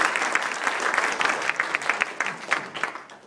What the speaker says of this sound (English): Let's give Norm a big round of applause.